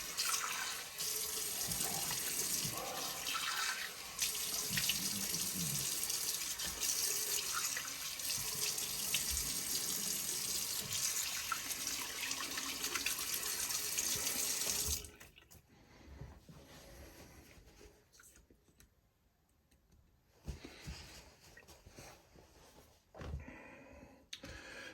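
Tap water runs loudly and steadily while a shaving brush is rinsed under it. The flow then cuts off and leaves quieter handling noises.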